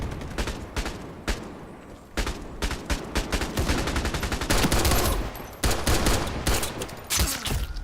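Rapid gunfire in the video game Ironsight, dense bursts of automatic shots and overlapping reports that come in clusters with short gaps, fairly close and sharp, with no voices.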